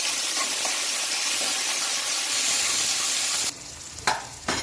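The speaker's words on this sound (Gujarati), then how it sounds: "મેં અહીંયા આગળ આદું મરચાં અને લસણની પેસ્ટ લઈ લીધી છે હવે આને આપણે સરસ સાંતળી લઈએ" Ginger, green chili and garlic paste sautés in hot oil in a pan, a loud, close, continuous sizzle that suddenly drops off near the end, followed by a couple of soft stirring knocks.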